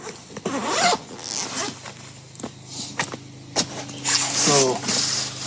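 A zipper on a motorcycle camping bag is pulled open in several quick, close rasps, followed by rustling and shuffling as gear is unpacked, with a voice talking in between.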